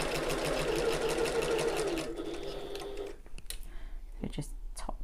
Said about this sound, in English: you can flip it around and just whiz that through the sewing machine as well